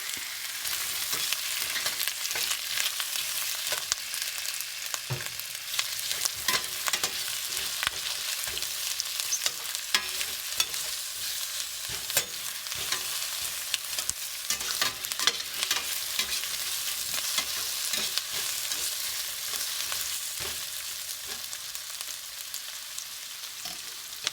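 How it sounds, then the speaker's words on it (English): Chopped onions sauté in a pan for chickpea curry, giving a steady close sizzle with frequent crisp crackles and repeated scraping stir strokes throughout, with no talking. "Saute the onions."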